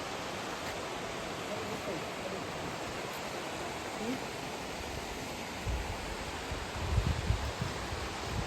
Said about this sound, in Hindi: Finally we reach waterfall.